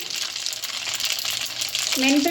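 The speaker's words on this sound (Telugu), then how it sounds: "ఆవాలు మంచిగా చిట్లాలండి." Mustard seeds and fenugreek spluttering in hot oil for a tempering for raw mango sesame pickle, a continuous close crackling sizzle that grows a little louder toward the end.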